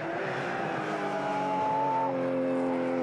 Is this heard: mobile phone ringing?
no